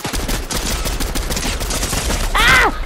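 Rapid video game gunfire crackles in quick, uneven bursts of close shots, loud and sharp throughout, ending with a short rising-and-falling electronic whine.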